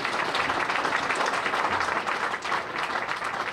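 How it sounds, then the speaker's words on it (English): A room full of people applauds steadily and loudly at an RCA Bloomington history talk honoring a former plant manager, with dense, even clapping lasting throughout. "How about a round of applause for Miss Lamb?"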